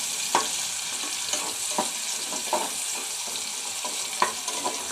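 Ghot kochu (taro) bhaji frying in a pan, giving a steady close hiss of hot oil with several brief scraping stirs at irregular intervals.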